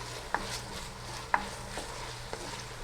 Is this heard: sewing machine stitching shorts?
no